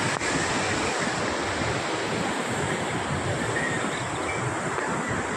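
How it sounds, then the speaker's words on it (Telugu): Loud, continuous roar of water rushing through the open gates of Jurala Dam, broad and unbroken, with some wind buffeting. "చూడండి ఏ విధంగా వస్తున్నాయి నీళ్ళు"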